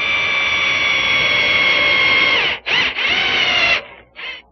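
A power drill with a slightly larger bit enlarges a hole in the post of a wooden Windsor chair, giving a loud, close, steady high whine that stutters briefly, then stops before a short final burst.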